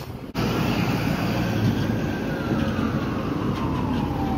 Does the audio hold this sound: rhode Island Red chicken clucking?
no